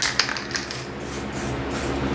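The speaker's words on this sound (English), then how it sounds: "And I'm just gonna spray some white right over that hole." White spray paint hisses steadily from an aerosol can for spray paint art, beginning with a few short sharp bursts and then settling into a continuous close spray.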